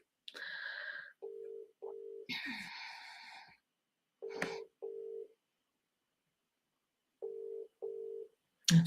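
A telephone call goes unanswered, the ringback tone sounding in short repeated pairs of beeps, faint and evenly spaced, with a voice and breaths heard between the rings.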